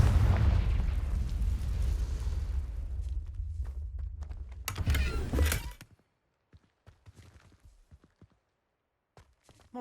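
A Confringo blasting spell explodes in Hogwarts Legacy, a loud rumbling blast with a sharp burst near the end before cutting out, then near silence with faint scattered clicks and steps.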